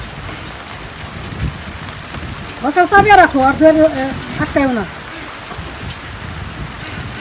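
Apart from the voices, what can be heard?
heavy rain on a village rainy day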